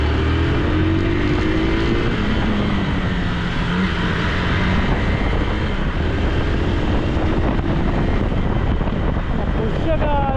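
A Hero XPulse 200T motorcycle rides along with its engine droning steadily throughout, heavy wind rush buffeting the microphone and the pitch rising and falling as the bike changes speed.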